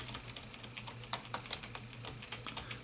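Typing on a Logitech MK270 wireless keyboard with firm keys, soft muted clicks in an irregular quick run, close and quiet over a faint low hum, with no speech.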